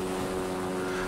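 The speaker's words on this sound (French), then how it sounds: "C'est un avion, il va vers le cargo." A low-flying airplane passes over the Atlantic toward a cargo ship in a dramatized commando anti-drug operation: a steady, droning engine hum with a buzzing propeller tone, continuous and fairly loud throughout.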